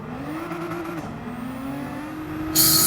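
A Nissan GT3 NISMO race car in Gran Turismo 7 drones at steady revs, its engine note rising and falling slightly over a few seconds before a sudden burst of bright noise near the end.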